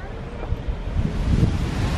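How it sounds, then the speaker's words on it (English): Steady wind buffeting the microphone, a low rumbling roar that swells slightly, with no clear voices. "It's a bit windy."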